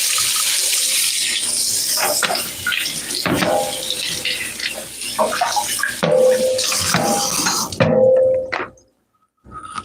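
Tap water runs steadily into a kitchen sink while a pineapple is rinsed under it, with splashing shifts and a few soft thunks as the fruit is turned, then the flow stops near the end.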